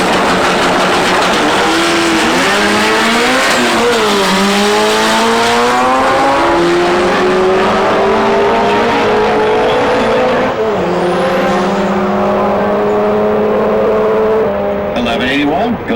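A 97 Honda Prelude with a 2.2-liter engine and a 98 Acura Integra launch at a drag strip, engines screaming up through rising gear sweeps, loud and close, with an announcer talking over them.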